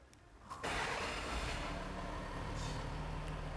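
A 2018 Ford F150 diesel truck engine idles steadily at very close range, a dense continuous clatter and rumble that starts abruptly and holds for a few seconds.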